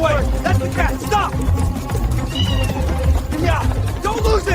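A cat meows several times amid a busy street chase, with shouting voices and commotion around it.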